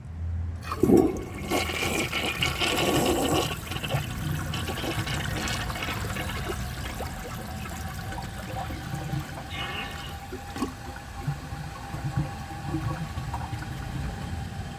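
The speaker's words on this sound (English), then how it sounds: "I'm gonna give it another full flush again, just like that" A 1981 Briggs Conserver concealed jet toilet flushing, with a loud rush of water up close settling into a long steady swirl and trickle as the bowl refills.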